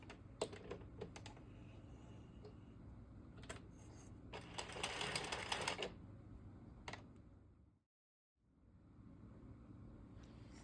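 Addi 46-needle circular knitting machine being cranked around: soft plastic clicking and rattling with a brief louder whirring run in the middle, faint and close, then a short silent gap before the clicking resumes.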